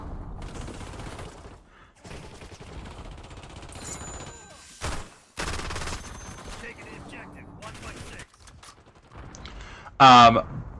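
FFAR assault rifle fire in Black Ops 6, with bursts of rapid gunshots and mechanical clacks broken by short gaps, ending in a loud sharp crack, all mixed with voice-like game sounds.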